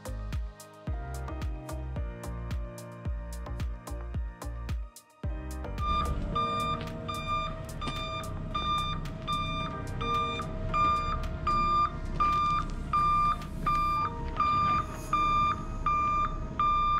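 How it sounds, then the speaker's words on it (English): Truck backing up, a steady series of sharp reversing beeps at even intervals, loud and close, over a low engine rumble. "they're gonna back a truck up to mine and drive the Bobcat off"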